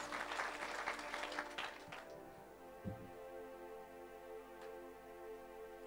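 A church congregation bursts into applause and cheering for God for about two seconds, then the clapping fades as sustained keyboard chords carry on alone.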